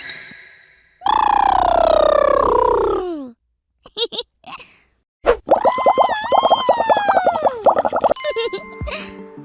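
Someone makes playful imitation animal calls: a long, loud, wavering trumpeting hoot, a few short grunts, then another drawn-out warbling bellow and brief squeaks.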